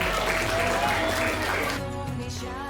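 Audience applause at a school gathering, a dense continuous clapping wash that is fairly loud and near, with a faint tonal hum running underneath and the clapping thinning slightly toward the end.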